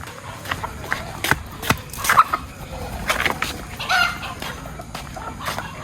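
Chickens perched on a village rooftop give scattered clucks and squawks at close to medium distance, with brief bursts of noise among quieter gaps.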